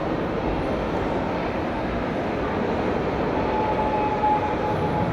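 A steady, loud rumble of a train and bustling ambience fills Nuremberg's main railway station, with a constant low roar throughout.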